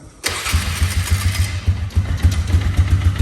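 A Polaris Scrambler 500 ATV engine cranks and fires up, then settles into a loud, close, fast-pulsing idle with a throbbing low beat.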